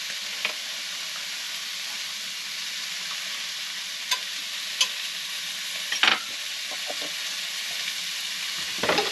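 Quartered Brussels sprouts fry in coconut oil in a pan, giving a steady close hiss of sizzling with occasional sharper pops and stirring clicks scattered throughout.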